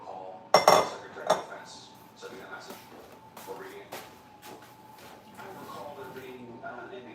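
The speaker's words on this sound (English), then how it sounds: "So I'm gonna cut my onion right here" A knife cuts through an onion on a board in a home kitchen, with a few sharp clinking knocks early on and then softer scattered chopping sounds while someone talks throughout.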